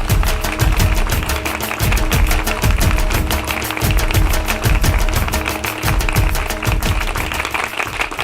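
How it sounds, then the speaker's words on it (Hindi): Steady applause from a crowd at a Ganesh festival comedy event, many hands clapping densely and loudly without pause for the whole stretch. "तालियां"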